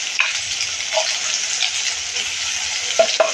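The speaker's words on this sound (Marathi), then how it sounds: "वाटप आपल्याला छान परतून घ्यायचं आहे" Ground masala paste for a spicy drumstick curry sizzles steadily while being sautéed in a pan, with a continuous close hiss and a few sharper crackles and stirring scrapes near the end.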